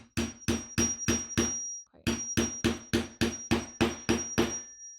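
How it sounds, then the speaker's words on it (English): A hammer strikes a rivet through layers of leather bag material on a cutting mat, a run of five sharp evenly spaced blows, a short pause, then about eight more, close and crisp. "it does seem like I have to hammer it quite a few times"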